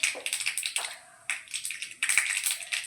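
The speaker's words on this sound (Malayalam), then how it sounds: "കടുക് പൊട്ടുന്നുണ്ട്." Mustard seeds splutter in hot oil in a pan, a quick run of sharp, close crackling pops in bursts with a short lull between them.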